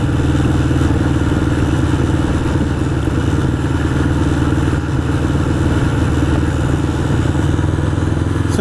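The engine of a 1981 Honda CB750 Custom motorcycle runs steadily and loudly up close, a continuous rumble with a clattery edge that holds for the whole stretch, with no one talking.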